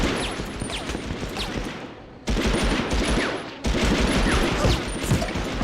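Sustained automatic gunfire in the World War II shooter Medal of Honor: Underground, loud continuous rattling bursts in three long stretches separated by brief dips.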